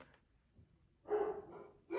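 Dogs bark from indoors, a loud burst of woofing followed by a second bark starting near the end, with quiet room tone before.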